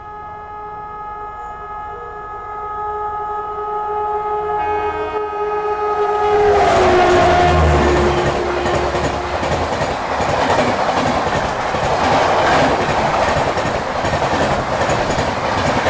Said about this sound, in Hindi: तो ये सिकंदराबाद राजधानी एक्सप्रेस है।